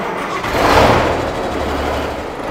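A Pontiac Trans Am engine cranks and catches, a short swelling rumble that settles into a steady idle, close by with no voices.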